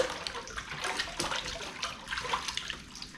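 Salt and citric acid solution for tanning cowhide being stirred, a continuous splashing, sloshing wash of liquid with small irregular surges, fairly close and steady, with no talking.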